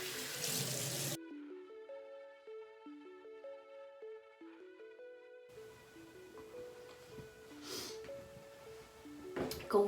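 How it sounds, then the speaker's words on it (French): Cold water runs from a tap as a face is washed at a bathroom sink: a short, loud gush at the start, then a stretch of soft tonal music, then steadier splashing and running water that swells near the end. "Après ça, vous lavez le visage avec de l'eau froide de préférence."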